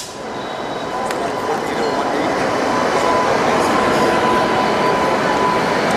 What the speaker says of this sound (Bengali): সদ্ভাবনা এক্সপ্রেস ঢুকছে 1 নম্বর প্ল্যাটফর্মে।